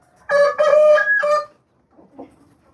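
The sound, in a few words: rooster clucking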